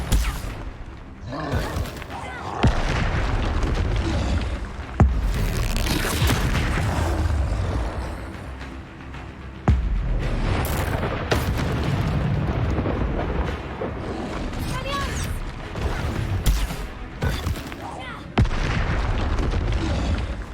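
Repeated Confringo spell explosions in the video game Hogwarts Legacy, a busy run of booming bursts and pops over a dense game soundscape, with several sharp blasts standing out loudly through the clip.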